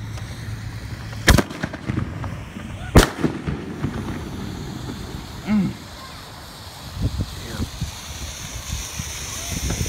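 Two American Party Fountain consumer firework fountains lit outdoors, giving sharp cracking pops and bangs over a steady hissing roar, with people talking nearby.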